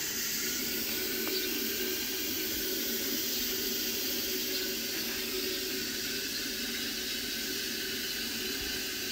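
Tap water runs steadily into a 5-gallon Kratky hydroponic bucket, a continuous broadband hiss and splash that stays loud and even throughout, with no talking.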